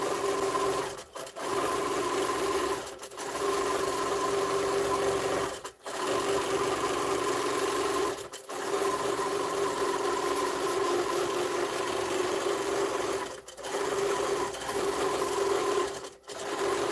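A Baby Lock Gallant XL long arm quilting machine stitches steadily with a fast, even mechanical whir, broken by several brief pauses, close and continuous with no talking.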